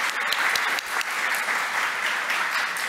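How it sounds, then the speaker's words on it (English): Steady applause from an audience at a tech talk on QA and development automation, dense clapping held at an even level for a few seconds with no voices over it. "Applause, please."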